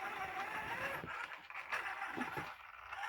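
A 1/10 scale Summit radio-controlled car with a Quickrun Fusion Pro 2300KV 540 motor drives steadily, giving a continuous mid-to-high whine with scraping and clattering from the chassis, loud and close throughout with no talk.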